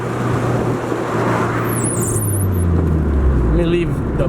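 Turbocharged Honda B16B engine in a car accelerating down a straightaway, a steady droning rumble with a rising whine and a turbo spooling hiss up high, heard from inside the cabin.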